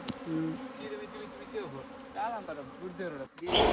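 Honey bees buzzing in a deep forest during honey hunting, a close, wavering drone that rises and falls, with voices talking over it.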